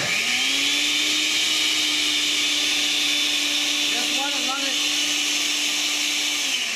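A blender runs continuously at close range, dissolving ingredients for a homemade detox lotion, a steady loud whirring drone that holds level and then stops near the end.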